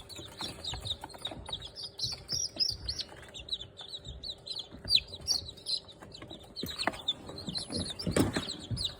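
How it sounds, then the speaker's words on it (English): A mother hen and her baby chicks in a brooder, the chicks cheeping in a busy high chatter with softer hen clucks and some shuffling and flapping beneath, fairly quiet and close. "It's Mama Hen, Tate."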